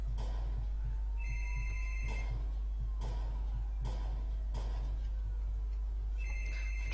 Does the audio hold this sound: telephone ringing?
yes